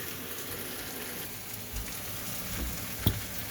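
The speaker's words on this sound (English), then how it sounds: "we're going to start our ribeye steaks on the stove" Ribeye steak sizzles in a pan on a stovetop at medium heat, a steady close crackling hiss with a few small pops, no voices.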